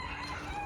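A rooster crows in an English cottage garden, a brief, steady crow that sounds fairly close and fills the whole short moment with no voices over it.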